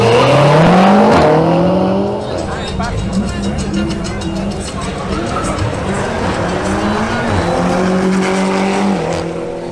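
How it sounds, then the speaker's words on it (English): BMW M340i xDrive and BMW M5 Competition launch side by side at a drag strip, engines roaring and rising through gear changes over a steady crowd-and-track background, loud and close throughout. "Duvin Cedino in his BMW M340i xDrive faces off against Juan Camilo Páez in his BMW M5 Competition"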